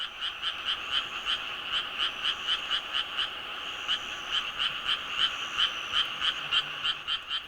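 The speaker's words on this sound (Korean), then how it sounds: "구애에 나선 개구리들. 저마다 울음주머니를 힘껏 부풀려 사랑의 세레나데를 부른다" Frogs croak in a fast, regular pulsing chorus, many calls repeating steadily and overlapping, fairly close, with no other sounds.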